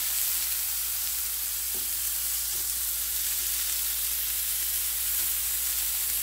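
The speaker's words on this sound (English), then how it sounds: "Woo, sizzling, baby." Strips of wild turkey meat fry in hot olive oil, giving a close, steady, crackling sizzle with occasional pops and no voices.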